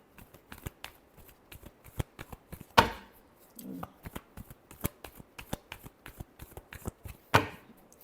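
A deck of tarot cards is shuffled close up, with rapid riffling flutters and crisp snaps in an uneven rhythm, two louder bursts standing out.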